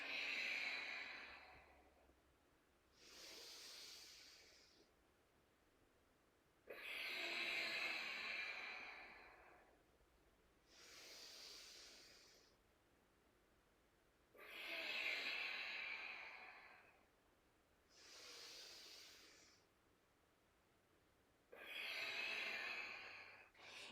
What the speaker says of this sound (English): Breathing deeply in and out through the nose.